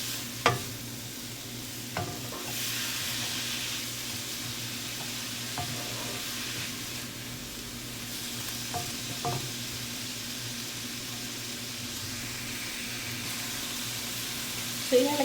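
Tomato sizzles steadily in a frying pan while being stirred for soup noodles. Occasional scrapes and taps of the utensil sound over the continuous frying hiss, close and moderate in volume.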